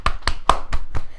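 Hands clapping against feet during a relaxation session, six crisp slaps in a steady, fairly quick rhythm, close and loud with short gaps of quiet between them.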